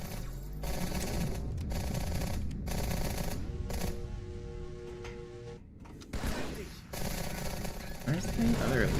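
Gunfire in Halo 2, rapid automatic bursts that come and go over steady game noise, with a person talking over parts of it.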